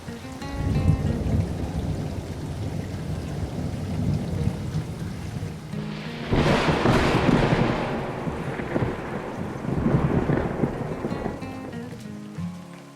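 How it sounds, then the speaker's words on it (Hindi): Steady heavy rainfall pours down continuously, with a loud rolling thunderclap breaking through near the middle and a second swell of rumbling later, no voices present. "बारिश हो रही है, मुझे बारिश की बूंदों को देखना बहुत पसंद है।"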